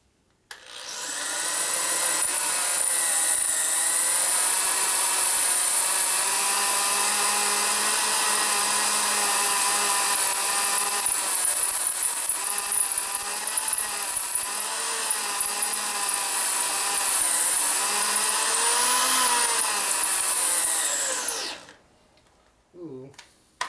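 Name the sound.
drill drilling into broken Harley sprocket bolt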